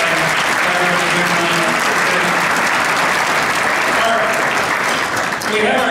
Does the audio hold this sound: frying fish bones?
no